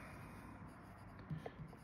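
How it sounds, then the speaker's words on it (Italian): A Click Yen fountain pen with a medium nib, fitted with a converter, writes on paper, giving faint, soft scratching strokes with a couple of small taps near the end. "E veniamo dunque alla prova scrittura."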